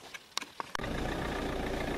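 Car passing by outdoors, a broadband rushing engine and tire noise swelling in after a few sharp clicks and knocks, then holding steady and fairly close.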